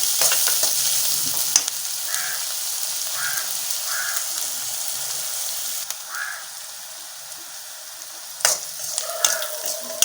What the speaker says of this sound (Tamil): வெங்காயம் வதக்கும் போது கொஞ்சம் உப்பு போட்டுக்கிட்டால் சீக்கிரம் வதங்கிடும்